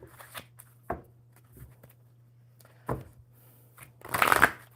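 A deck of mermaid oracle cards is shuffled in short, scattered bursts of riffling and flicking, ending in a louder, denser flurry close to the listener, with a faint steady hum underneath.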